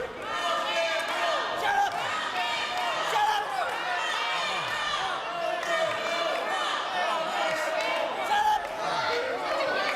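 A wrestling crowd keeps up a steady roar of cheers and chants for Ricky Morton, with a commentator talking over the noise throughout.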